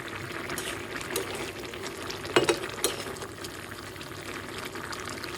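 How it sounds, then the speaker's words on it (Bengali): Pieces of fried katla fish go into a bubbling coconut milk curry, making a soft plop and stir at mid-clip over a steady low simmer and faint kitchen clatter. "জাল উঠে আসলে আমি ভাজা মাছগুলো দিয়ে দিলাম"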